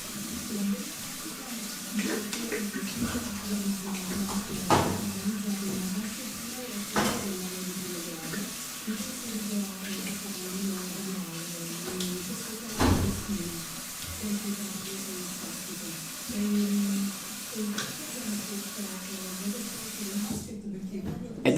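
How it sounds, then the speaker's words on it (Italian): Water splashes in a basin as a face is rinsed with plenty of cool water after shaving, giving irregular splashes and sharp knocks over a steady running stream, with someone talking throughout. "vado a sciacquare con acqua abbondantemente fresca"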